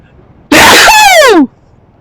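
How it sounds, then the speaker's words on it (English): One loud, sharp sneeze bursts out close by, a breathy rush ending in a falling voiced tail, with quiet before and after. "is going to sneeze now, so everyone close your ears"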